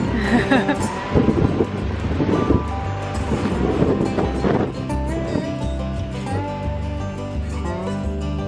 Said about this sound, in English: Boy, windy.